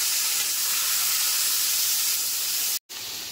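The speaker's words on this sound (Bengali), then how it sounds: "এই তেলে এবার বরবটিগুলো ভেজে নেব" Yardlong beans fry in hot oil in a wok, producing a loud, dense, hissing sizzle that runs unbroken apart from one brief cut near the end, with no voices.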